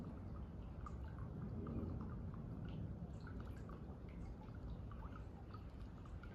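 A small fountain pours water from a jacuzzi into a pool on a patio, a faint, continuous splashing trickle with scattered drips.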